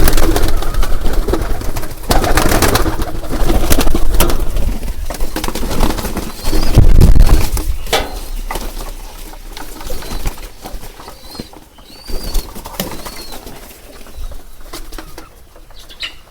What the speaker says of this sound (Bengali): এখানে কবুতরগুলো ভালোভাবে খাবার আছে